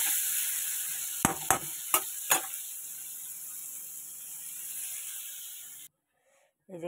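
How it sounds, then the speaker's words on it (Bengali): Pumpkin stirred in a hot oiled pan with salt and turmeric, a steady sizzle broken by four sharp scrapes of the spoon before the sound cuts out. "এই যে নুন দিয়ে দিয়েছি, আর এই যে হলুদ দিয়ে দিলাম, দিয়ে এটাকে নাড়াচাড়া করে এটা হতে দেবো।"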